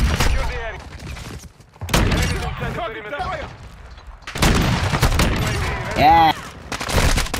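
Rapid automatic gunfire from an SBR and MK2 Carbine in a Call of Duty multiplayer match, dense bursts of shots with thuds and explosions, overlaid by a player's excited voice shouting.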